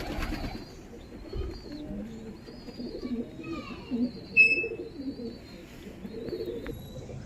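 Pigeons in a loft coo in low, soft murmurs with occasional brief chirps and fluttering, fairly faint and close.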